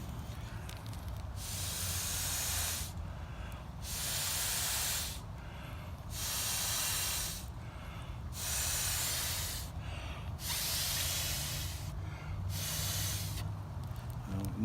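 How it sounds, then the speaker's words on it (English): Long hissing blasts of breath forced through a blowpipe into old fire ash, five or six bursts with short pauses between them, close and fairly loud, no voices. "so I'm going to blow some ash, see what happens"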